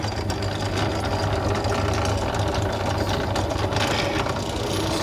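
A drill press spins an O1 tool steel doming tool against brass pins, giving a steady, loud mechanical whir and rattle throughout with no pauses.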